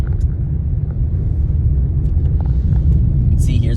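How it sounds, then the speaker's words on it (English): Dirt bike engines during a night race, a steady loud low rumble of motors running continuously throughout, with a faint high whine near the end. "You can see here's a bike coming in the dark."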